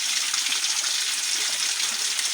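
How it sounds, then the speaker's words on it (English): A spring of clear water runs steadily outdoors, a constant loud rushing gush with no pauses and no voices. "This is the water that was blessed, the spring that have no season."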